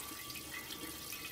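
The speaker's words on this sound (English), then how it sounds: "this is where it's terrible, draining this cooling system" Coolant drains from the cooling system of a BMW N20 engine as a steady, soft liquid pour and trickle, close by and continuous, with no one talking.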